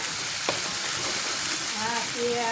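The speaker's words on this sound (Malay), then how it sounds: "Tok Umi dah siap goreng ni ya" Loud, steady sizzling of beef lung frying in hot oil in a pan, with a brief clink of a utensil stirring near the start.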